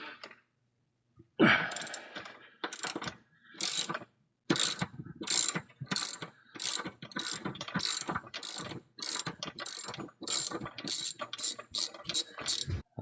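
A hand ratchet loosens a bolt on a polyurethane transmission mount on a 2002 Camaro SS, with rapid, close clicking bursts in a steady back-and-forth rhythm after a brief pause.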